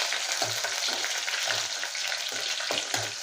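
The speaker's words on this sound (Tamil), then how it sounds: "பெரிய வெங்காயம், கருவேப்பிலை போட்டு நல்லா தாளிச்சு வச்சுக்கோங்க." Onions and curry leaves crackle and hiss in hot oil in a close, loud, continuous fry, with a few soft stirring thumps and no talking.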